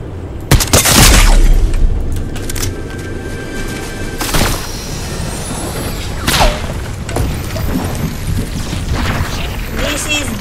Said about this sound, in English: I'm just hitting little shots here and there.